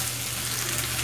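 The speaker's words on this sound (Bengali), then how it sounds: "আর কোয়ার্টার টিস্পুন হলুদ, এই দিয়ে এটাকে ভেজে নেব।" Papaya fries in a pan with cumin powder and turmeric, a steady dense sizzle that stays even and close throughout, with no talking.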